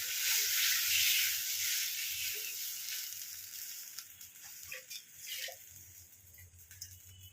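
Tamarind water poured into a hot cooking pan, a sharp, hissing sizzle that is strongest at first, then settles into softer bubbling and crackles with a few light stirring sounds.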